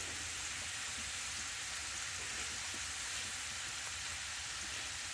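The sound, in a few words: frying tortilla chips in a pan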